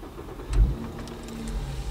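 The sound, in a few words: Volkswagen Golf 5 R32 engine starting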